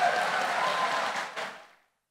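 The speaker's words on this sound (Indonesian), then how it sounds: "Tepuk tangan dulu kita." An audience at a Panjaitan clan gathering applauds during a speech, a dense burst of clapping that holds steady and then fades out to silence within about two seconds.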